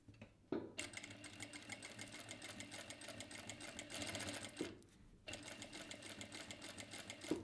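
A JACK 9100BA sewing machine stitches fabric in steady, fast mechanical runs, stopping briefly twice before starting again, close and fairly quiet.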